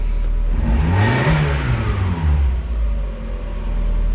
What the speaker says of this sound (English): Probably should let it warm up more before I rev it.